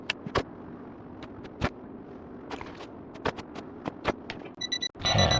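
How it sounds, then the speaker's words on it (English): A watch alarm goes off in a zombie video game, a rapid high electronic beeping that breaks in near the end over scattered soft clicks and footstep-like taps. "one of the many watches is making noise now"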